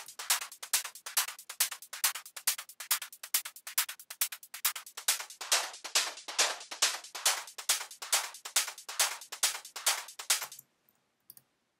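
Trance percussion loop built from sliced hits, each slice individually retuned in a sampler, playing as a fast, steady run of bright, crisp transient clicks and hats that stops abruptly near the end, with no talk.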